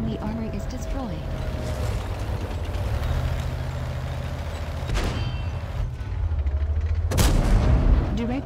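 World of Tanks gameplay with heavy tank cannon shots and impact booms at about 5 s and 7 s, over a constant low engine rumble and battle ambience, with radio-style game voice lines.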